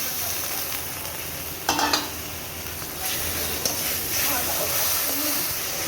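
Vegetables coated in turmeric and chili powder sizzle in a pan after a splash of water, a steady close hiss broken by a few clinks and scrapes, with a voice faintly underneath.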